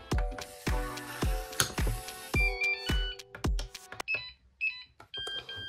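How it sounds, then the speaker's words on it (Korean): Door lock sounding its low-battery warning: a rapid series of short electronic beeps with a few clicks, followed by higher chirping tones near the end, close and fairly quiet. "근데 배터리가 방전됐다고 소리 나오시죠?"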